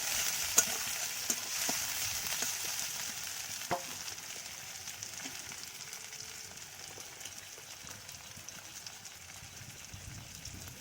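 Garlic paste and a whole large tomato frying in a pan for a quick Bengali fish curry give a soft, steady sizzle with a few sharp clicks and taps early on, fairly quiet and with no talking.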